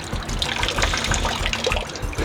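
Running water from the São Jorge sacred water fountain at the old Corinthians training ground, a steady, close splashing flow that continues alone without pause.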